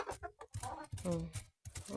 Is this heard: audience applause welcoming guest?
no